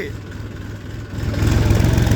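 A farm tractor's engine idles close by with a steady low throb that swells louder partway through. Talk can be heard alongside.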